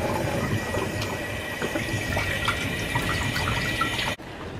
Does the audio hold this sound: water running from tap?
yes